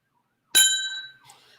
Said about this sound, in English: So I'm just going to do the bell once, Eric.